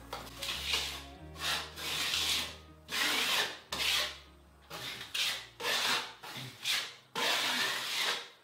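A trowel scrapes and presses compound over seam tape on Durock cement board during a bathroom remodel, making a series of rough rubbing strokes in an uneven rhythm, close and moderately loud, with no voices.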